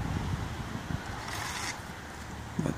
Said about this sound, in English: It's a nice breezy day.